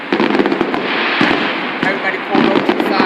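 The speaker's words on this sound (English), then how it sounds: "Let's do fireworks, everybody!" A fireworks display outdoors at a Welcome America celebration, with a dense roar of crackling bursts and sharp pops filling the whole stretch and voices of a crowd mixed in.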